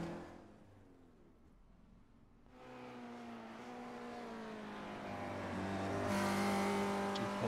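Race car engine in a Nordschleife sim race video game rising from quiet to a loud, steady high-revving drone as the car passes, with a sharp burst of noise near the end.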